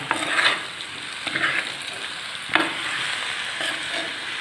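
Chicken with onion and pepper sizzles in a pan and is stirred, with a steady frying hiss broken by a few sharp spatula scrapes and clinks against the pan.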